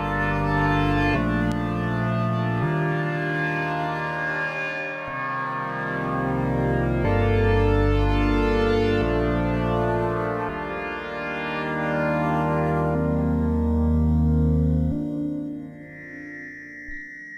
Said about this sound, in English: once you throw the reverb back in there